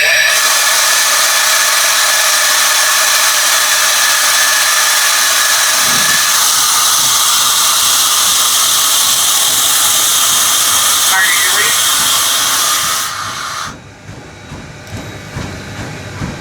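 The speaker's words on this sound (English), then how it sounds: "So I'm going to do a brake test right now." Steady loud hiss of compressed air venting during a brake test in the cab of Strasburg Railroad steam locomotive No. 90, continuing for most of the stretch before cutting off and dropping away near the end.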